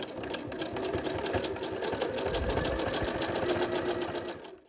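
A sewing machine stitches an elastic fabric bookmark on a zigzag setting, running in a steady, loud, continuous whir for several seconds before stopping.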